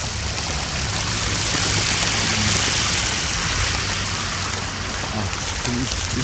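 Steady, dense rain hisses down onto slushy, melting snow, a constant close wash of sound with a faint low hum underneath and no talking.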